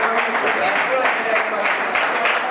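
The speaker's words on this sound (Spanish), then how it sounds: "Un aplauso para ellos." Audience applause at a flamenco club performance, a continuous wash of clapping lasting the whole moment at steady loudness, with voices mixed in.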